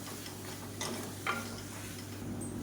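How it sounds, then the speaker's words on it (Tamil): Sliced capsicum sautés with masala in a pan for capsicum rice, a soft, steady sizzle with a couple of brief stirring clinks, quiet and close with no voices. "அதையும் சேர்த்து நல்லா வதக்கி விட்டுக்கலாம் குடமிளகா நல்லா வேகட்டும்"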